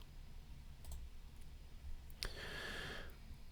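A single soft mouse click sounds in a quiet room, brief and faint against a low background hiss.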